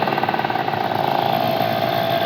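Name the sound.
motorcycle engine idling with racing exhaust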